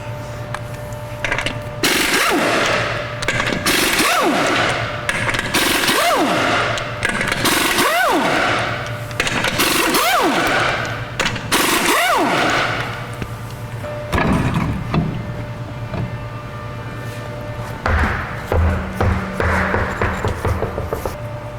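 Impact gun on the lug nuts of a 2013 Chevy Silverado, loud close bursts of hammering rattle repeating roughly every two seconds, each ramping up then cutting off, with an engine-like hum underneath.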